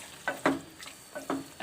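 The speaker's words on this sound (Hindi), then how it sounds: "अच्छी तरीके से मैं इसे भूनूँगी।" Mutton liver being fried and stirred in a pan with tomato and yogurt, with a few distinct stirring scrapes over a soft continuous sizzle, close and fairly quiet.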